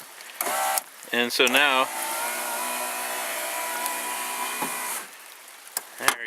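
An electric car window motor whirs steadily for several seconds as the window rises to the top, near and continuous, with someone speaking briefly before it starts.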